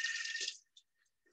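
A pastry brush is rinsed under a running tap, a short burst of splashing water that cuts off, then a few faint drips and small wet sounds.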